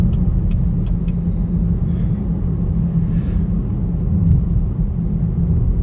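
A Chevrolet Camaro RS drives in traffic with a loud, steady low engine rumble that holds constant throughout, close and continuous, with faint higher clicks on top and no talk.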